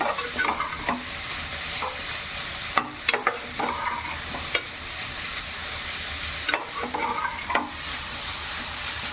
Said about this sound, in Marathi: गाजर सगळ्याचा व्यवस्थित ढवलून घ्यायचं आहे सगळं आपलं तूप त्याला लागलं पाहिजे